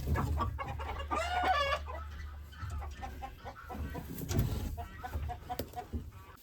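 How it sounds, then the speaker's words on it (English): Hens cluck in a hen house, with a burst of rising squawks early on and scattered clucks continuing close by over a low steady background hum. "We have 2 hen houses, and we probably have about 30 hens."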